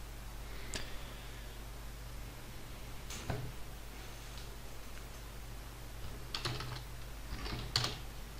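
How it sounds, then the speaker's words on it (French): Quiet keyboard typing in sparse bursts of clicks against a low steady hum, with a few louder key taps scattered through. "J'espère d'ailleurs que le clavier s'entend pas trop."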